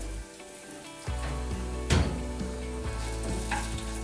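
A pan sizzles steadily as celery fries, with a sudden louder crackle when something is added, close and continuous without any talking.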